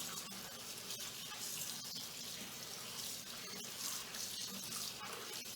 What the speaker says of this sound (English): So now it's time to rinse off all the salt and drain it.